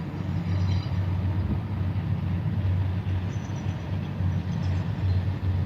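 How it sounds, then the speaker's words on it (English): A train passing along a river, a heavy continuous low rumble of rail traffic heard from a distance at a steady level, with faint higher tones drifting over it and no speech. "And another train coming at the same time"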